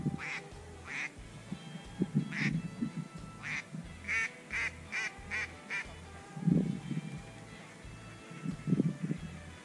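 A flock of ducks quacks during a drake mallard hunt, with repeated bursts of quacking and honking calls coming in waves over steady outdoor background noise, some calls near and loud, others fainter.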